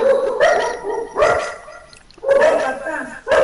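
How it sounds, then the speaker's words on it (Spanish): A pack of dogs barks in repeated loud bursts of overlapping barking, close and continuous, with a brief pause in the middle. "solo escucho una jauría"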